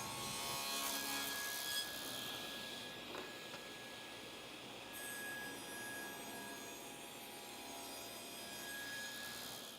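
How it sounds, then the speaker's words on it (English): A table saw cuts a centered slot in a wooden workpiece, a fairly quiet sustained rasping whir with shifting texture as wood feeds through the blade, alone without talk. "Then make a pass with each face against the rip fence to create the centered slot."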